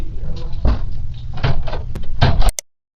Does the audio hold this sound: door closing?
yes